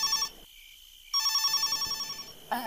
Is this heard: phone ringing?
yes